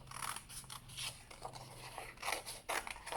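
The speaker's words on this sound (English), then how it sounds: "Then I'm going to cut those two pieces of paper together." Scissors snip through two stacked pieces of paper while cutting out flame shapes for a rocket shaker craft, giving a run of close, crisp crunching cuts with short pauses between strokes.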